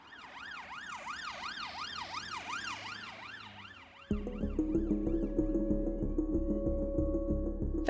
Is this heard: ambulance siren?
yes